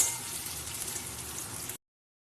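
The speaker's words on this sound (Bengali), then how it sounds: "লাল লাল করে পেঁয়াজটা ভেজে নিই" Onions frying in a pan with oil in a home kitchen while prawn-cutlet curry is being cooked; a steady, soft hiss and crackle runs evenly for under two seconds, then cuts off.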